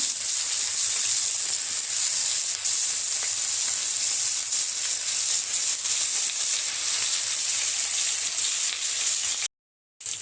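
Fish wrapped in banana leaf frying in hot oil for a spicy Tamil fish fry, a steady loud sizzle and hiss throughout, briefly dropping out near the end.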